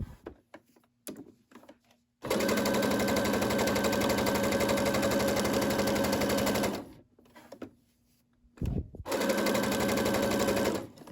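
A Brother SE600 sewing machine stitches back over old stitches on a fabric napkin, first in a long, even run of several seconds and then, after a short pause and a click, a briefer second burst.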